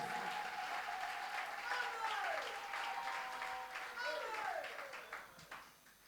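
A church congregation claps and applauds in praise of Jesus. The clapping is loud and continuous throughout, with a voice and singing-like tones rising above it. The applause thins out toward the end.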